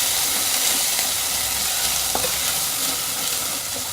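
A steady, loud sizzle of onion, ginger and garlic frying in hot oil, with an occasional scrape of a spoon stirring the pan.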